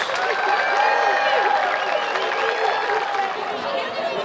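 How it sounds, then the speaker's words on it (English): A crowd at a high school football game applauds senior band members, with dense, sustained clapping and cheering filling the stands while voices talk loudly through it. "give one more round of applause for our senior band members."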